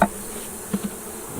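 A steady buzzing drone of many bees close by at a weak, failing hive, continuous throughout, with a few faint knocks underneath.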